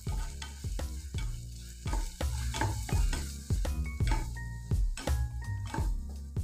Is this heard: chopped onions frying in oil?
yes